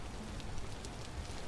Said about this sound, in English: Of course, visibility is not helping with the rain.